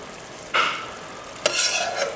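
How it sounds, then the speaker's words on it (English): A homemade beef curry is stirred in a pot, two scraping, sizzling swishes close by, the second longer and brighter, over a quiet simmering background. "Give it a stir."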